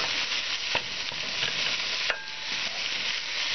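Cabbage roll soup ingredients sizzle in a hot pan while being broken up and stirred, a continuous close fry with scraping strokes and a few sharp utensil clicks against the pan.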